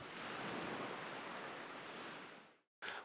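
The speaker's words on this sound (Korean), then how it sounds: "파도 소리 등을 들려주면" Steady ocean surf played as white noise through a speaker near a front door to mask outside noise, a broad continuous wash that holds loud for over two seconds, cuts out briefly, then resumes.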